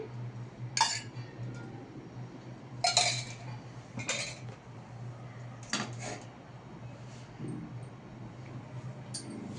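Metal pan set down on a stovetop for frying with a few spoons of oil, heard as several sharp clinks and clatters spaced a second or so apart over a steady low hum, fairly quiet in a home kitchen.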